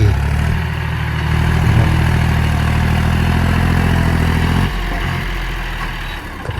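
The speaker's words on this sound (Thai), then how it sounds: "เครื่องยนต์สามสูบครับ สองพันเก้าร้อยสามสิบซีซี" A John Deere 5310K tractor's three-cylinder, 2930 cc, 55 hp direct-injection diesel runs steadily nearby with a loud, clattering low rumble that drops slightly in pitch and level near the end.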